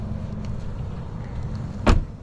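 A Jaguar F-Type's exhaust in sport mode holds a steady, deep rumble throughout, broken near the end by one short, sharp rise in volume before settling back, with no talking.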